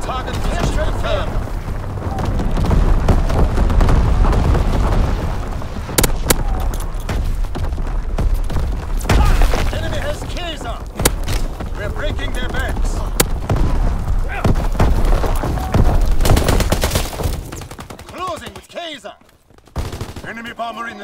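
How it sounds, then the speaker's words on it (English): Incendiary bombs and artillery battery blasts in Call of Duty WWII boom amid dense, continuous gunfire, with sharp cracks scattered throughout and a voice making announcements over the noise before it fades near the end. "Incendiary bombs incoming. Firing primary battery."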